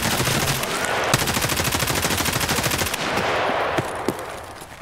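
Rapid automatic gunfire in the video game Escape from Tarkov rattles in long continuous bursts, loud and close, followed by a few scattered single shots.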